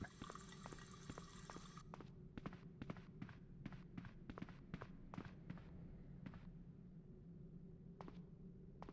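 Faint water running in the PS2 horror game Michigan: Report from Hell, a low steady trickle beneath a scatter of sharp clicks and taps like footsteps or drips, quiet and distant throughout.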